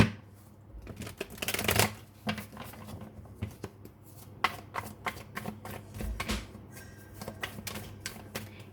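Tarot-style cards are shuffled by hand for a reading, giving rapid riffling flutters and soft slaps at close range, with a louder riffle early on and then steady quiet card handling and taps, without speech.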